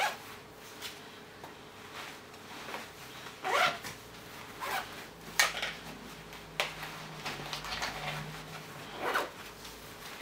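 Zippers on running trousers being zipped and unzipped, several quick rasping pulls spaced irregularly, close and fairly quiet with no talking.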